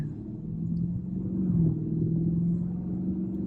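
A stock-exhaust 2015 Dodge Challenger SRT 392 rumbles steadily nearby with a deep, even low tone, swelling slightly at moments as it is driven.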